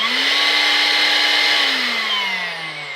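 A Vax cordless vacuum cleaner runs steadily at close range, a loud continuous motor whine with a bright high-pitched hiss; its tone slowly sinks and softens toward the end as it winds down.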